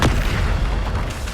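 A Bombarda spell explodes in Hogwarts Legacy on PS5, a single loud, deep boom that fills the short moment with rumbling low end.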